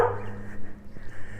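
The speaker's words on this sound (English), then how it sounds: "Yep, little doggy is not too happy." A small, unhappy dog yelps and whimpers faintly in a village street beside Roman tombs in a German wine region, with a steady low hum running underneath.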